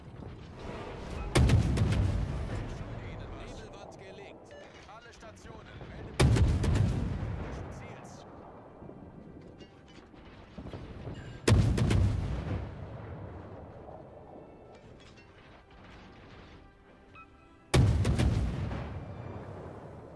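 Warship cannons in World of Warships, four heavy booming salvos several seconds apart, each a loud blast that rolls off into a long fading rumble, with commentary talk beneath.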